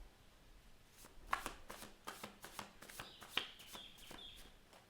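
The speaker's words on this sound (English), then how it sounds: "I'm going to push those cards under a bit more." Tarot cards being pushed and shuffled by hand: soft, close, irregular papery slides and taps in a quiet room.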